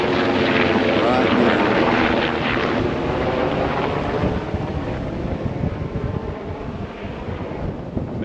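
A low-flying military helicopter passes close overhead on a farm with calves, its broad rotor and engine roar loud and steady at first, then easing slightly as it moves away, with wind buffeting the microphone.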